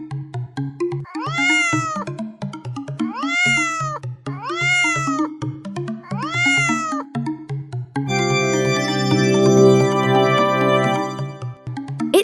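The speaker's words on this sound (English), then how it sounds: "It's a cat." A cat meows four times in a steady sequence of long, rising-and-falling calls, loud and close, then music takes over.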